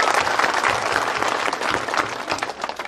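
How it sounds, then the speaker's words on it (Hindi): A crowd claps loudly and continuously at the unveiling of a large Dr. Ambedkar statue at a town square in Mainsar, Nokha, a dense close burst of applause with no voices over it. "आप सभी इनके लिए और इनके सहयोगियों के लिए जोर से ताली बजा के स्वागत किया।"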